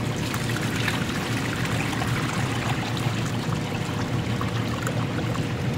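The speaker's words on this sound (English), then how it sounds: "You can dump the water off." Water pours and splashes steadily out of a shipping bag that held stingrays, a continuous close rushing gush with no talking over it.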